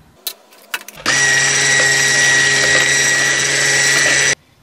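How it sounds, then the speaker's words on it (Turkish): A few clicks and knocks, then an electric mixer starts and whirs at a steady high pitch for about three seconds before cutting off, whisking eggs and sugar. "Bir çay bardağı toz şekerimi ekleyip mikserle iyice çırpıyorum."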